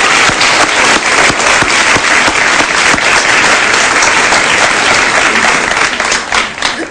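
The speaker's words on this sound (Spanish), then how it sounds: "un aplauso para ella," A studio audience at a Spanish-language talk show breaks into loud, dense applause for a woman being introduced, a close, sustained patter of many hands that holds steady and then begins to thin at the end.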